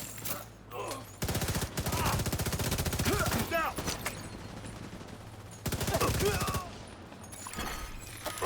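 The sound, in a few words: gunfire shooting at a shield in a video game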